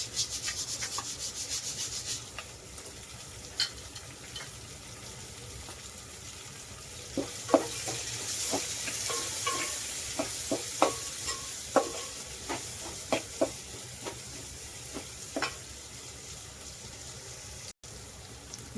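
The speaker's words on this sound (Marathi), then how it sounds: "टाकूया टमाटा टमाटा कांदा सगळं भाजून घेऊया" Tomato and onion roast in a pan with a soft, steady sizzle, while a spatula makes a run of repeated scraping strokes through the middle stretch.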